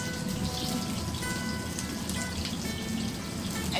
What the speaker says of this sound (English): we'll give it a good saute of the onions together with the fenugreek seeds